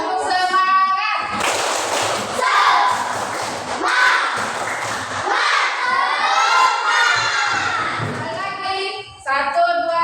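A group of children in a classroom lesson performs a spirit clap, chanting loudly in unison with bursts of rhythmic clapping and thumps, pausing briefly between phrases.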